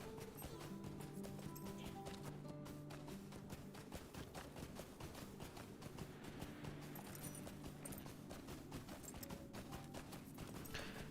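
Horse hooves clip-clop at a steady walking rhythm in Lord of the Rings Online, set in the Wildermore region of Rohan, running continuously beneath layered game music and ambience.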